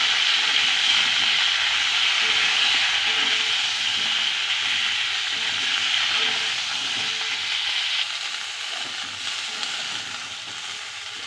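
Cauliflower sizzling and frying in hot oil in a home kitchen pan, a steady, loud, continuous crackle and hiss that holds throughout and eases slightly near the end, with no voices.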